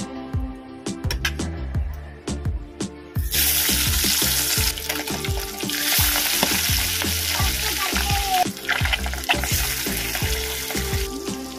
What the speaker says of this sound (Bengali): মাছের দুই দিকটাই ভাজা হয়ে গেছে